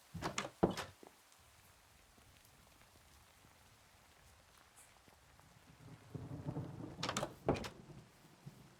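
Thunderstorm in the Minecraft video game, with a couple of sharp, crackling thunder strikes at the start, then a long stretch of quiet rain hiss, and a rumbling, rolling thunder burst near the end.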